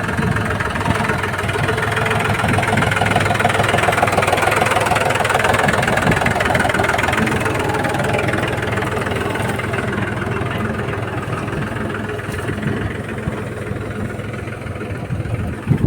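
A tractor engine rumbles continuously and loudly nearby while ploughing a cumin field, a heavy, steady mechanical drone with no voices.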